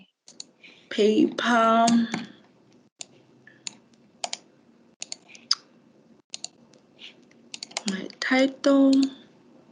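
Computer mouse clicks and keyboard typing while searching journal listings, sharp isolated clicks and short bursts of keystrokes scattered through the clip between stretches of nearby speech.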